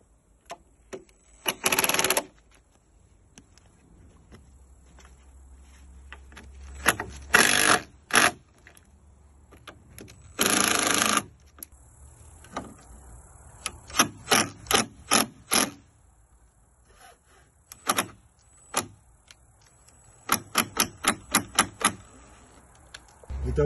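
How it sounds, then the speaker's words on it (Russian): Full-thread self-tapping screws driven into larch terrace battens: repeated bursts of a cordless driver whirring, with sharp clicking clutch ratchets in quick runs, close and fairly loud between short pauses. "мы закручиваем два самореза с полной резьбой"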